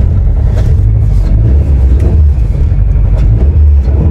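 A 2019 Subaru WRX STI tuned to 700 whp, with new cam gears and a new idle map, idles loudly up close with a deep, uneven rumble that wavers rather than settling.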